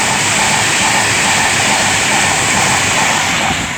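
A Class 390 Pendolino electric train, unit 390-010, passes at Tamworth on the West Coast Main Line, a loud, close, continuous roaring rush of wheels and air that holds steady throughout without talk.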